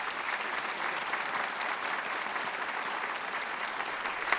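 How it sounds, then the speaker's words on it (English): An opera house audience at Malmö Opera gives a steady, full round of applause for director Peter Stein, dense continuous clapping from a large crowd that holds even throughout with no talk over it. "An applause for Peter Stein."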